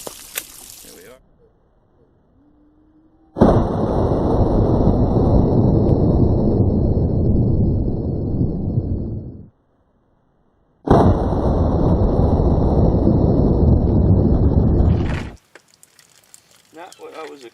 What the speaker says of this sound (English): Now it's a shotgun.